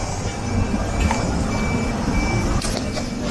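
A tram or bus rolls in along a Lisbon street, heard as a continuous low mechanical rumble with faint squeals and clanks on top. The sound stays at a steady moderate level and there is no talking.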